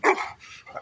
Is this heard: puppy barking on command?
yes